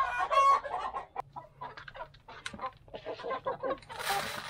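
Heritage breed chickens cluck repeatedly up close, with a rooster-like call and scattered bird chatter over a faint low hum, ending in a brief burst of broadband noise.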